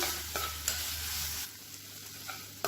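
Ingredients with cashews sizzle and get stirred in a hot pan, a soft steady frying hiss broken by a few light scraping clicks of the spatula.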